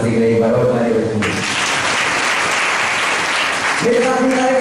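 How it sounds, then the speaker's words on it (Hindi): A church congregation claps together in praise of Jesus, a burst of steady applause in the middle, with a voice speaking loudly before and after. "यीशु मसीह के लिए बराबर ताली बजाएं।"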